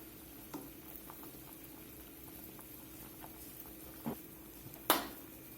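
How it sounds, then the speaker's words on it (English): A pot of potatoes and carrots for beef stew bubbles at a low, steady boil, with a few louder pops and splashes near the end. "potatoes and carrots have been boiling here for just a few minutes"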